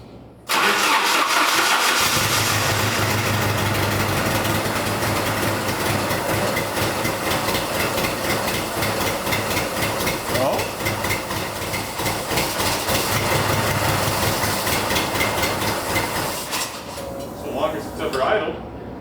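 An abandoned Jeep engine cranks and catches, then settles into a loud, rough idle with an uneven, misfiring beat that runs on before cutting off near the end.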